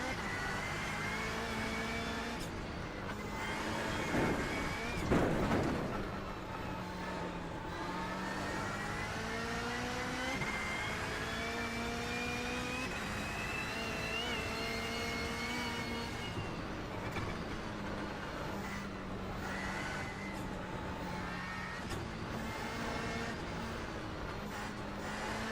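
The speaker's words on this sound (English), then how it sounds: "this car doesn't have the best engine sound though" A race car engine in the iRacing video game revs and shifts through gears steadily, its whining pitch climbing and dropping repeatedly, with no talking.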